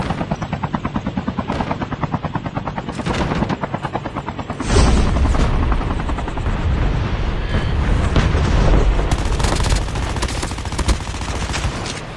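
A helicopter in a multiplayer shooter video game thrums with a rapid rotor chop, then grows into a louder, dense roar mixed with bursts of gunfire and explosions, and no one speaks.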